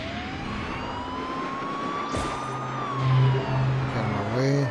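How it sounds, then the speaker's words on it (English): A wavering siren-like electronic tone rises and falls over a busy, noisy Beach Buggy Racing game soundscape, with bursts of engine hum and a few short beeps near the end. "Sirens."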